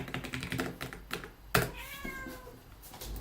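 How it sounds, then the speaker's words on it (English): A pet cat meows once, close and clear, in a quiet room while a computer keyboard clatters with several key taps before and after. "Sorry, my cat is."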